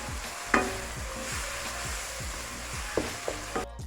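Red chilli powder and turmeric being stirred into a sizzling masala for egg bhujia, a steady fry with repeated scraping strokes and a few sharp utensil knocks, close and alone.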